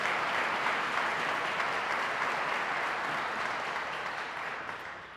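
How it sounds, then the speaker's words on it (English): Audience at a police constable badge ceremony gives a round of applause, a broad sustained wash of many hands clapping that fills the room and gradually eases off toward the end. "One more round of applause for that group of people."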